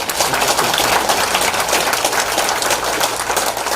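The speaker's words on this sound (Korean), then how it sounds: "다시 한번 큰 박수 부탁드리겠습니다" Sustained audience applause at a Korean political rally and security lecture in Houston, loud continuous clapping from a full room without a break, with no speech over it.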